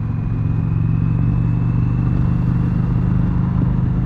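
2020 Harley-Davidson Sportster Iron 883 motorcycle on a test ride, its engine giving a loud, steady low rumble with a constant drone throughout and no voices.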